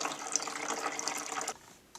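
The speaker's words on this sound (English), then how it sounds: "So my unit is filled up with water." Water pours into the reservoir of an AeroGarden Bounty hydroponic unit in a steady close splashing rush that stops abruptly after about a second and a half.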